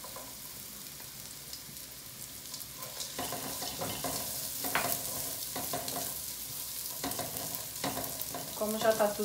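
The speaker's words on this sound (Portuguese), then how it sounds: "O alho refogado. A gente junta o bacon." Bacon fries with sautéed garlic in a pan for crispy collard farofa, making a steady sizzle with scraping stirs that grow busier toward the end. A brief spoken phrase sits over the frying.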